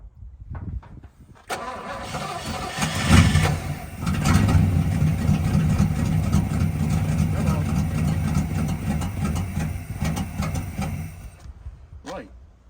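A 1964 Chevrolet El Camino engine cranks for several seconds, catches and runs at a loud, steady idle close by, then cuts out near the end, with a voice heard briefly.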